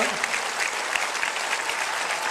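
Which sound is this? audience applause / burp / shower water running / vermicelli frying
audience applause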